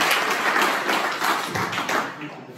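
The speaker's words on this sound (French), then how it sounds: "On peut s'applaudir." An audience at a regional news gathering claps together in a brief, dense burst of applause that fades toward the end.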